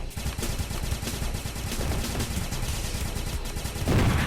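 Aircraft guns in Sky Rogue fire continuously in a loud, rapid rattling stream as an enemy plane is shot down, with a heavier burst near the end.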